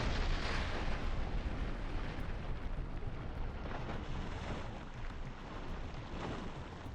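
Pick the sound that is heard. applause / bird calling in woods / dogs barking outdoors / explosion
explosion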